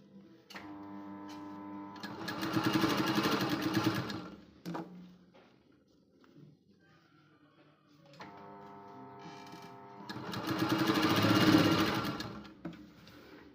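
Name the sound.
sewing machine stitching blouse tucks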